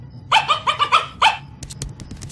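A dog lets out a rapid run of five or six sharp, close barks, followed by quieter scattered clicks and knocks.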